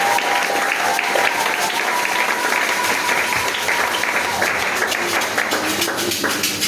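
A church congregation at a worship service breaks into loud, sustained applause and cheering that fills the space continuously, with voices mixed in beneath the clapping.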